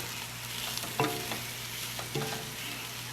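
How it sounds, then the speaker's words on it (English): Rice gets stirred in a cooking pot over heat, soft scraping strokes over a steady simmering sizzle, close and fairly quiet with no voices. "So I'm going to give this a quick pause. Yeah, so my rice is already in there. And I'm going to stir it up."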